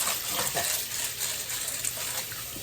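Water sloshes and splashes as rice is rinsed by hand in a glass-measured batch during fryum preparation, a close, continuous wet swishing with faint running-water texture and no talk.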